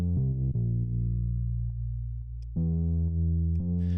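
A sampled acoustic bass in a liquid drum and bass track, low end rolled off and lightly saturated, playing sustained, steady low notes that shift pitch a few times, alone and fairly quiet.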